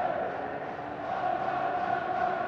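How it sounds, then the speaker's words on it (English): Football fans at a Hibernian vs Rangers match applauding the players, a broad, steady crowd roar and clapping heard from a distance. "these fans applauding him and the other players this afternoon"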